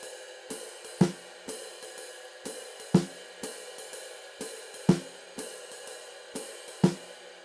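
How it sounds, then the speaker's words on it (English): A drum kit plays a steady jazz ride cymbal pattern with hi-hat on 2 and 4 and a snare hit on beat 1 of each bar, a clear repeating rhythm heard alone without talking. "playing the ride cymbal pattern with the hi-hats on 2 and 4. So now we're going to incorporate a snare drum on beat 1."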